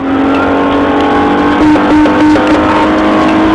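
A silver Chevy Impala races through crowded city streets in a police chase, its engine droning loud and steady with a rising tonal whine throughout, no talk over it.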